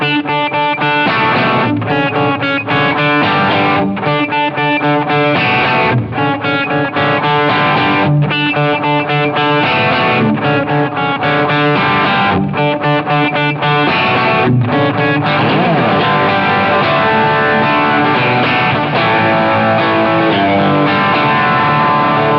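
Distorted electric guitar playing the main theme of a worship song, loud and continuous over a full band with steady driving rhythm for the whole stretch, no talking.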